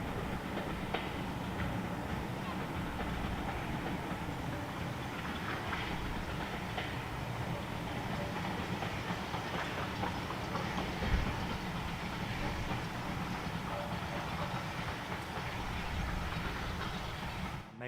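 A steam locomotive and a diesel shunter on a heritage railway rumble steadily past at close range, with continuous rolling noise and rhythmic clickety-clack of wheels over rail joints throughout.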